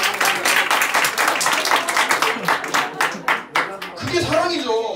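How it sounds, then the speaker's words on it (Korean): A church congregation bursts into brisk, rhythmic clapping during a missionary's sermon, the applause filling most of the moment before a voice resumes speaking near the end. "동의하시면 박수!"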